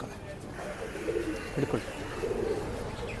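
At a pet shop, a pigeon gives soft, low coos under a man's nearby speech, with faint chatter and shop noise around them.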